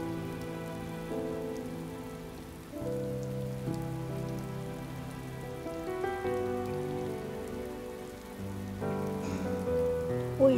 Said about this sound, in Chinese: 外面在下雨